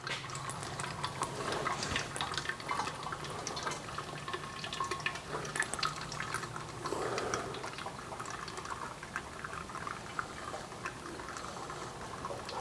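Liquid, fuel or water, drips and trickles inside an old Dodge Coronet engine that has sat without a carburetor for years, heard as a faint, steady watery patter and bubbling under low background noise.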